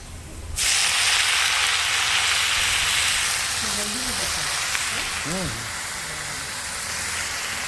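A loud, sudden sizzle erupts as ground pumpkin-leaf paste hits hot oil, then hisses steadily while a voice speaks briefly over the frying.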